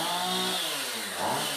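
A chainsaw engine from The Texas Chain Saw Massacre film drones in a harsh, revving buzz, loud and continuous throughout, with a slight pitch dip partway through.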